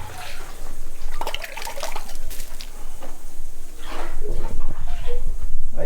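Drinking water poured for a guest in Hohenau, a loud splashing trickle that runs almost throughout, swelling and easing in bursts with no voices.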